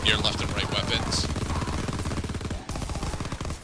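Akimbo weapons firing in Call of Duty: WWII Nazi Zombies, a steady rapid stream of close, loud automatic shots with a short break near the end, under a talking voice.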